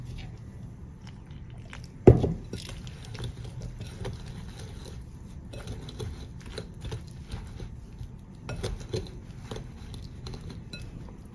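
Rice flour batter mixed with medium-thick coconut milk, stirred in a bowl: soft wet squishing and light utensil clinks up close, with one sharper knock against the bowl early on.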